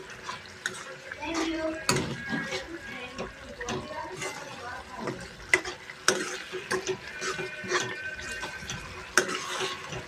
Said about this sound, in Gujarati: જે કોમ્પ્લોર પલાળીને મૂકેલો જ છે હવે મિક્સ કરી દઈશું